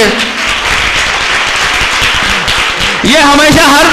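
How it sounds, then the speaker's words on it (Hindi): An audience applauds at a school awards ceremony for a competition, a dense wash of clapping that swells louder near the end while someone speaks over it. "इनके लिए तालियां बजाइए।"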